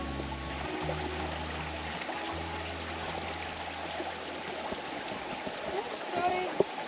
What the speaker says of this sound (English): We've reached the first bits of water.